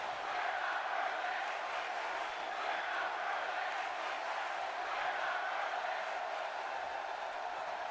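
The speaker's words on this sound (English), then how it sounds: "Oh, crowd telling him he's not worth it." A wrestling arena crowd chants at a wrestler during a WCW event, a dense, sustained roar of many voices filling the hall without letting up.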